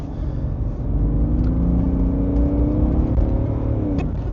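A BMW E60 535d with 282 brake horsepower accelerates, its engine a deep, steady rumble and whir that climbs gradually in pitch and stays loud and close, with no talk.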